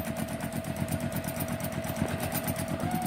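A sewing machine runs steadily during free-motion quilting on a small quilt piece, its needle producing a rapid, even mechanical chatter with a faint constant whine, close and continuous with no talking.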